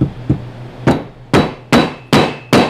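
Seven sharp metal impacts from a rusty axe used as a hammer, striking in an uneven rhythm that speeds up, each a loud close clank with a short ringing tail and no talk.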